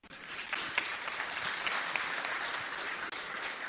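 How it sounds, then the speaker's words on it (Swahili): Crowd at a Kenyan political rally clapping together in a sustained burst of applause, moderately distant and fairly even in loudness for several seconds. "Tumpigie makofi."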